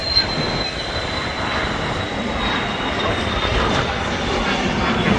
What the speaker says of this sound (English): I've got a private jet on a rotation out as well